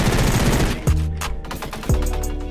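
A diamond MP7 fires in the Roblox game Energy Assault, a dense, loud, rapid stream of automatic shots, with two short pauses or distinct bursts standing out. No one speaks.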